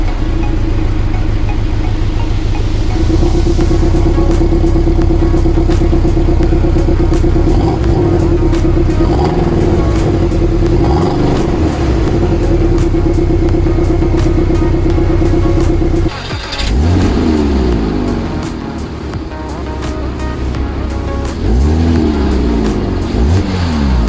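Porsche Boxster 987 and 718 engines with the sport button engaged rev loudly and steadily, the tone holding then dropping into surging revs and blips in the second half, close and continuous with no talk.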